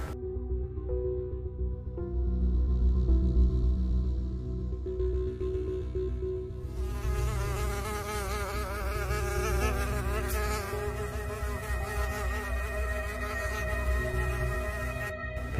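A housefly buzzes steadily around food indoors, a continuous droning whine with no speech.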